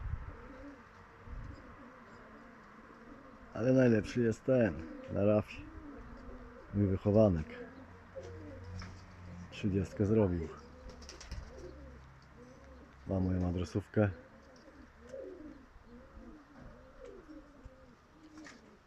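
Soft pigeon coos and bird calls sound intermittently in the background while someone talks over them, with a few louder bursts of nearby sound.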